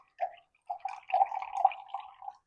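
Juice from soft, zested lemons is poured out of a container, making quiet trickling and dripping bursts with brief gurgles, separated by short pauses.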